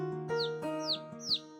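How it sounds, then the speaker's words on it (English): Cartoon birds chirp in three quick, bright, rising-falling tweets over a steady tonal musical background, clear and close in an animated garage scene. "He's feeding the birds."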